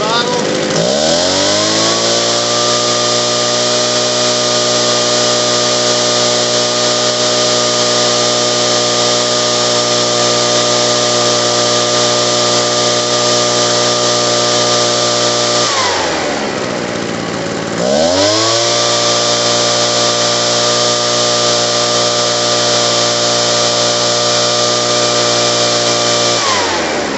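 A Husqvarna 145BT backpack leaf blower engine runs after carburetor and fuel line repair, a loud sustained two-stroke roar held at high revs, dropping briefly to idle midway before revving back up, with no speech over it.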